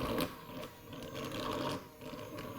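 A cheap, budget-priced robot vacuum cleaner runs close by with a steady mechanical whir and rattle. Its motor noise dips and swells slightly but continues without a break, and no one speaks.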